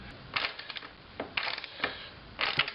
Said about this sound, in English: I'm going to go ahead and tighten the bolts up a bit